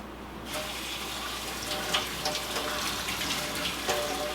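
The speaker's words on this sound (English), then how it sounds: "So I'm going to rinse these really good" Kitchen tap water gushes steadily over sprouting seeds being rinsed, a continuous close splashing wash with small sloshing surges throughout.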